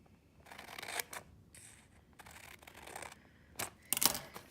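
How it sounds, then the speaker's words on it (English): Scissors snip through paper along printed lines while a TN pocket is being made. The cuts come close and quiet as short crisp bursts, some single and some in quick pairs, with gaps between them and no talking. "So I cut on all the dark lines"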